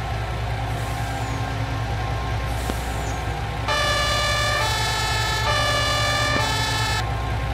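An Iveco Euro fire truck in Farming Simulator 19 sounds a wailing siren over its engine rumble, faint at first and then cycling loud and close in a steady two-tone pattern.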